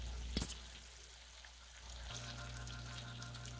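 Green tomato slices frying in a pan, a soft, steady sizzle that runs throughout with a couple of brief clicks near the start and a low hum entering partway through.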